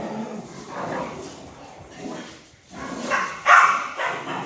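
Dogs bark and yip in a large new room shared with volunteers, several short, fairly faint barks spread across the moment, with one sharper yelp near the end.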